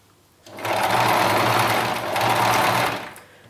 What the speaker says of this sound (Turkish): Makine dikişi geçeceğiz.